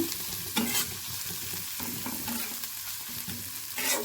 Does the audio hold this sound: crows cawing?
no